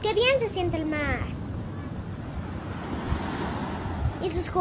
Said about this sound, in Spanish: ¡Qué bien se siente el mar!